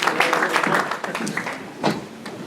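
A church congregation applauds during a bilingual service, with bursts of hand clapping mixed with voices and shouts, fairly loud and close, rising and falling across the moment.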